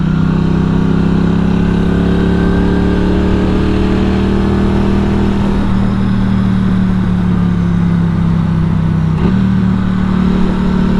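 A 2023 Norton Commando 961 SP twin hums steadily under load through a run of bends, engine drone shifting pitch as the throttle eases and picks up twice, close and continuous with wind noise and no speech.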